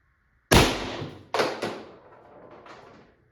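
A Valken M17 airsoft gun fires several sharp, loud, close shots: one strong crack, then two quick shots close together, and a fainter late report, each with a brief decaying tail and no voices.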